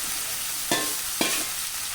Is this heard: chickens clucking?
no